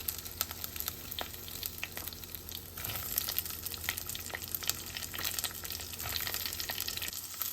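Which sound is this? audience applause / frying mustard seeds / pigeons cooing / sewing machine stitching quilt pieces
frying mustard seeds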